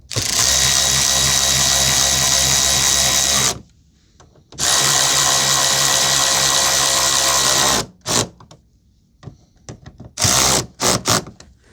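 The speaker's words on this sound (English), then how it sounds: "So install the 7mm bolts into place." A power drill drives 7mm bolts into a 2017 Ford F-150 headlamp assembly on the 3.5 EcoBoost truck, two long loud whirring runs followed by several short bursts and ratcheting blips, with no talk.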